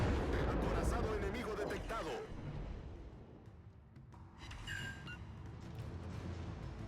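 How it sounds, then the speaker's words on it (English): Naval guns firing high-explosive shells at the battleship Tirpitz in World of Warships Legends, with a loud booming salvo at the start that fades, then a fainter second report, while someone talks over it. "So we'll shoot HE at the Tirpitz here."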